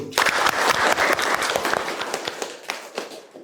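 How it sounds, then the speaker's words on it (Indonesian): Classroom applause from a group of students, a loud burst of close, quick clapping that starts at once and gradually thins out and fades over a few seconds. "Oke, beri tepuk tangan dulu."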